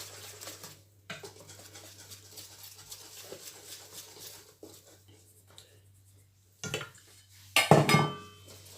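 Cake batter for a toasted cake is being mixed with flour in a bowl, giving soft scraping and light clinks of utensil against the bowl, with a louder burst of clattering near the end.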